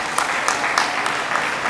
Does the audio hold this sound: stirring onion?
no